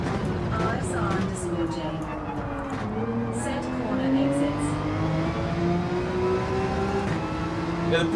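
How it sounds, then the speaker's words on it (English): A Peugeot race car in Gran Turismo 7 accelerates steadily, its engine note climbing and holding a strong whining drone throughout, with someone talking over the engine. "Yeah, the Peugeot has very good acceleration."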